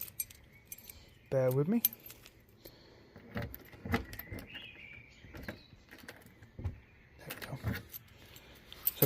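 Original Porsche car key jangling and scraping as it is worked into the lock of a cheap used Porsche, with a burst of metallic jingling followed by scattered clicks and rattles and a brief spoken remark.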